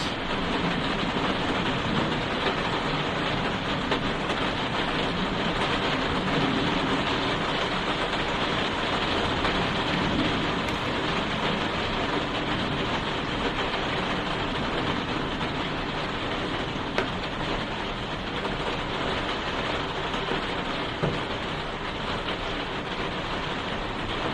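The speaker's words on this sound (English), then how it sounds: "I'm just enjoying listening to the rain" Steady, dense rain falling continuously, a constant broad hiss with occasional louder drops, no voices.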